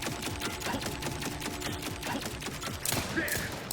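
Automated turret fire in The Outer Worlds 2 on PS5 Pro, a rapid rattling stream of shots with sharp clicks and thuds, running continuously at close range with a burst of extra impacts near the end.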